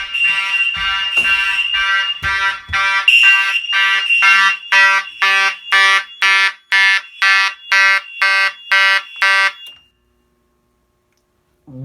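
A new fire alarm system in a man cave sounds during a test, blaring loud, evenly pulsed electronic horn tones nearby for about ten seconds before cutting off abruptly into silence.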